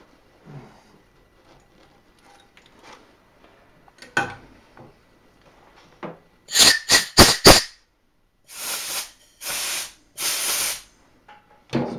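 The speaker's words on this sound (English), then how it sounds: "Remove all the chips, and I use compressed air because they are very small chips catch inside the threads" Several short, loud hissing blasts of compressed air clear small chips from a freshly tapped hole in a side wall: a quick cluster of three or four bursts, then three longer sustained blasts, with faint workshop handling noises before them.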